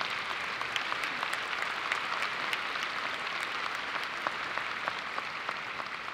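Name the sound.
audience applause at law school commencement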